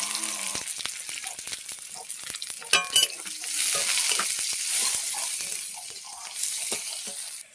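Onion fries in hot oil with garlic paste, a continuous close hissing sizzle with occasional light clinks and taps of a utensil, swelling slightly louder toward the end, with no talking.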